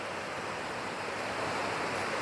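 Small sea waves lap steadily during a traditional Konkan fishing trip out at sea, a soft continuous wash of surf with no voices.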